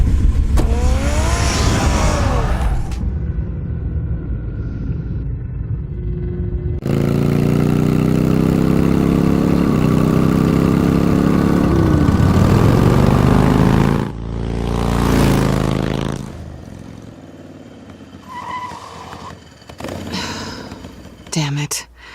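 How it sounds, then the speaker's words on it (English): Car in a Batman game being started and driven off, with a loud engine roar rising and revving through several bursts, accelerating and then shifting away, alongside some speech. "Get the car ready, Alfred"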